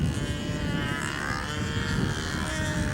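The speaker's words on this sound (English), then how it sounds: "Beautiful airplane." A control-line model airplane at a flying competition drones with a continuous, loud engine buzz whose pitch shifts slightly as it circles, with no talk over it.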